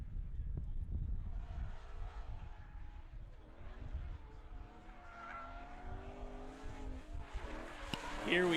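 Drift cars roar through the initiation point at PPR in Fountain, Colorado, engines rising and falling with tire squeal and skidding, heard at a moderate distance over crowd and track ambience.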